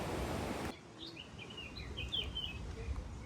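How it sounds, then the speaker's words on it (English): Birds chirp in short, faint calls on the Madeira coast, scattered against soft background noise after a brief burst of wind or surf at the start. "Love the sound of the birds."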